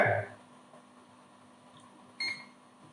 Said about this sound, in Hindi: टच होते ही इसमें बीप आवाज होती है